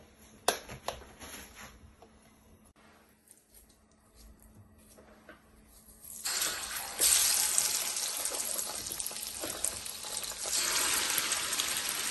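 Fish dropped into hot salted frying oil sets off a sudden loud, hissing sizzle partway through, after a quieter stretch of light kitchen handling sounds, and the crackling hiss carries on steadily to the end.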